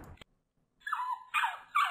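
A dog barks and whimpers in a few sharp, high-pitched bursts after a brief low thump, close and fairly loud with no talking.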